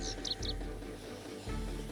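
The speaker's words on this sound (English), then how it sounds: "Very loud birds." Loud bird chirps in the zombie survival game Project Zomboid, a few quick high tweets early on over a steady ambient game background, with no talking.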